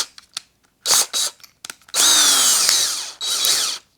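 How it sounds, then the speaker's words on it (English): A DeWalt drill fitted with a hole-cutting bit spins up in short bursts and then a longer whine as it bores a precise hole through fabric, loud and close with no speech. "use the drill, and it's going to quickly spin around and cut out that hole in a precision manner"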